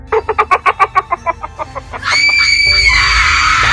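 A series of rapid rhythmic squawks gives way to a loud, sustained high-pitched scream over a noisy background.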